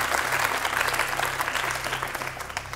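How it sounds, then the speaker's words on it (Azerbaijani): Studio audience applauding on a TV quiz show, a steady, dense patter of many hands clapping close by for the whole stretch, easing slightly toward the end. "Az həvəslə alqışlayırlar"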